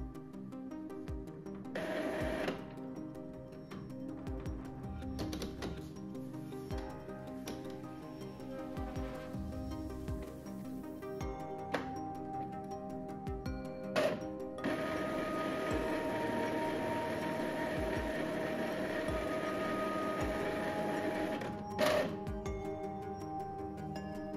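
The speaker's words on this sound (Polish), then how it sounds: "maszyna będzie sobie tylko i wyłącznie czyściła głowicę" An inkjet-style printer runs its print head cleaning cycle, producing a long stretch of mechanical whirring and humming with intermittent clicks, motor pitch changes and a few sharper knocks, steady and fairly close, no one talking.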